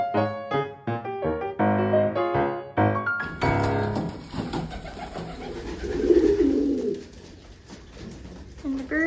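Backyard chickens inside their coop, close by and fairly loud, giving repeated soft cooing and warbling calls that overlap one another, with shuffling and rustling beneath.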